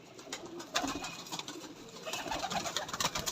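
Black Moti pigeons coo softly, with several overlapping low calls close by in a breeder's loft, and no talk.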